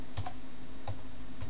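A message is typed on a keyboard with one finger during setup of an Icom ID-31 radio with a Pi-star hotspot: three slow, separate key clicks, close and clear over a steady background hiss.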